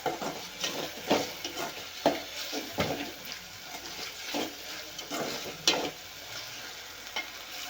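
Eggplant and tomato frying in a pan, a continuous low sizzle broken by repeated scraping stirs and light clinks, close and moderately quiet.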